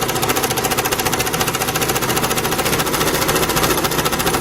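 Sewing machine stitching at maximum zigzag width with the pedal pressed, a loud, fast, even mechanical chatter that holds steady throughout.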